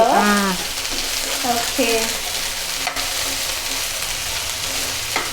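Okra frying in hot oil gives a loud, steady sizzle throughout, with a brief spoken word near the start.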